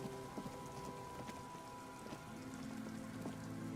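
Cold rain falls steadily in the video game Disco Elysium, a dense hiss of drops under a soft tonal game ambience, with no voices.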